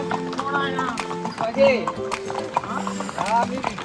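A horse's hooves clip-clop in a steady rhythm during a ride at Matheran, while people talk over them, with bright tonal squeaks or calls scattered throughout.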